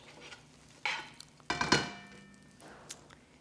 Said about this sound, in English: So we'll get that butter in there and get it kind of melting around.